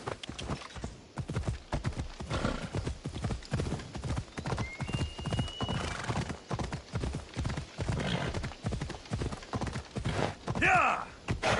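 A horse gallops in Assassin's Creed Odyssey, its hoofbeats pounding in a fast, steady rhythm close by, with a brief whinny toward the end.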